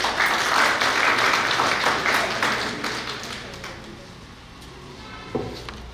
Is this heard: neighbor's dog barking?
no